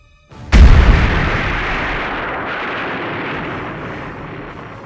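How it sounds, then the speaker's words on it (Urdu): A torpedo strikes a warship's ammunition magazine, setting off a huge sudden explosion: a sharp deep blast followed by a long, loud rumbling roar that slowly fades over several seconds. "اتنا بڑا دھماکہ جو ہوا، وہ ٹورپیڈو دراصل کھکری کے میگزین میں جا کے لگا تھا"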